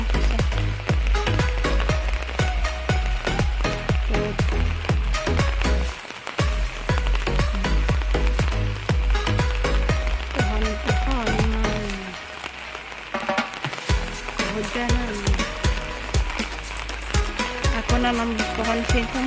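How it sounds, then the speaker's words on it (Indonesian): Heavy rain pours onto a vegetable garden, a dense patter of drops striking leaves and surfaces with sharp close taps, continuous and loud with a brief lull midway, no voices over it. "Oh, hujan gede lagi."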